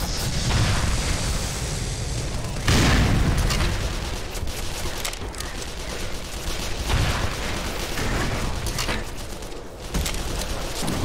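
Rocket explosions and gunfire in the video game Black Mesa form a dense, loud barrage of booms with sharp blasts around the third and tenth seconds.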